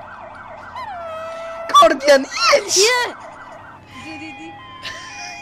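A police car siren in MTA San Andreas multiplayer wails in a steady rising and falling tone, with a second siren tone joining near the end. Excited players shout over it partway through.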